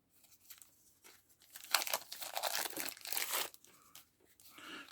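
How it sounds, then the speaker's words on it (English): Plastic wrap is peeled and torn off a deck of cards from the 2021 Free League boxed tabletop game Twilight 2000, producing bursts of close crinkling and crackling that swell in the middle and then fade. "So let's peel off this plastic."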